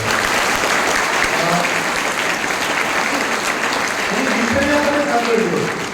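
An audience at a higher-secondary school elocution contest breaks into steady, sustained clapping that fills the hall, while a voice carries on faintly underneath.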